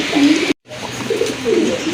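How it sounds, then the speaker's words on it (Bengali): A male Black Gold Archangel pigeon coos close by, soft low throaty rolling calls in two short bursts split by a brief gap, with no one talking. "খুবই সুন্দর একটা ব্ল্যাক গোল্ড আর্চেঞ্জেলের নর কবুতর"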